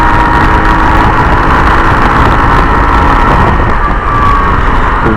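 Hero Glamour XTec 125 motorcycle engine running on a test ride, a loud steady rough drone with wind rush, unbroken for the whole stretch with a brief dip near the end.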